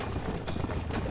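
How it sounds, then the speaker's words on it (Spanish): Horses gallop in pursuit in Red Dead Redemption, a steady, close, dense drumming of hooves running continuously throughout. "me están pisando los talones los mendigos caballos"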